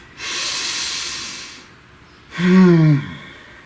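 A deep breath drawn in as a long, airy inhale lasting over a second, then a louder voiced exhale with a sighing tone close to the mic, alone in a quiet room.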